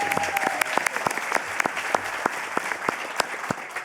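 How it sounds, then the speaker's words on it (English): Audience applause for the speakers at the close of an early-career scientists' pitch session at a research conference: a steady wash of clapping with individual sharp claps standing out, continuous and fairly close throughout. "give them a big round of applause"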